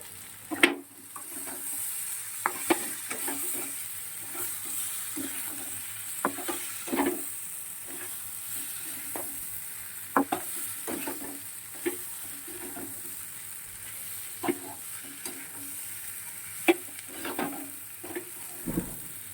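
Spice paste for a prawn and potato curry fries in a pan with a steady low sizzle, while a spoon scrapes and stirs in repeated short knocks spread evenly through the clip, close by and with no talking.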